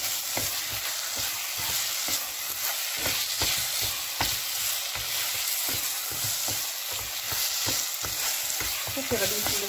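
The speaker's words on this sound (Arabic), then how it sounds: "غادي نخلي داك الزيتون يتشرب لنا شويه غادي نبقى نحرك هكا هكا حتى يتشرب" Olives still on their pits are stirred through cooked mallow greens in a frying pan: a steady close sizzle broken by frequent rhythmic scrapes and clacks of the spoon, with no talking.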